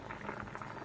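Tea bubbling as it boils in a pot on a home kitchen stove, a steady soft gurgling simmer heard close up with no voices.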